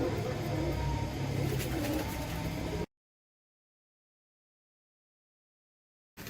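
Pigeons of Tiger and Teddy breeds coo softly amid a busy outdoor murmur for a few seconds before the sound cuts to silence.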